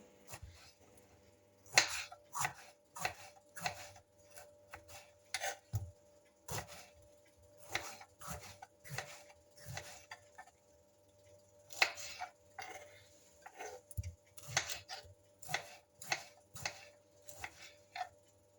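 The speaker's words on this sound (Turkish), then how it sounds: "Domatesleri doğruyorum." Repeated knife strikes chopping tomatoes on a cutting board, irregular quick taps in short bursts, close by with no talking.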